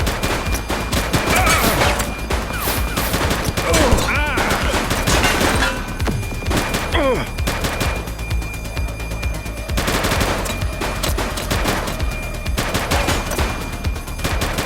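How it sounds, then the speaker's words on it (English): Sustained automatic gunfire fills a police shootout in The Precinct on PS5. Loud, dense volleys of rapid shots run almost continuously and barely let up. "Shots fired!"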